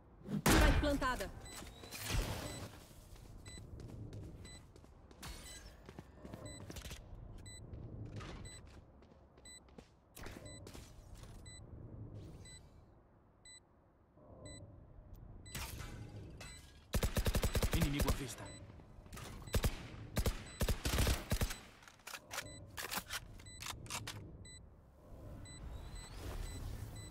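Gunfire from the shooter game Valorant breaks out in sharp bursts and single cracks, with quick volleys clustered mid-stretch and quieter gaps between, under players' talk.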